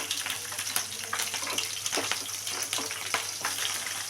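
Green chillies and onion frying in a pan for a carrot curry, giving a steady, even crackling sizzle with small pops throughout, close and continuous, with no talking.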